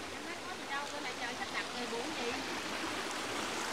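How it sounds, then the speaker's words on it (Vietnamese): Floodwater from a flash flood rushes through a hillside garden turned into a stream, a steady loud wash of churning water filling the whole stretch without pause. "mà mưa xuống thành lũ quét, mà lũ quét thì tạo thành suối"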